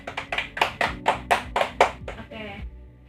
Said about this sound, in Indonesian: Ayo tepuk tangan untuk kita semua.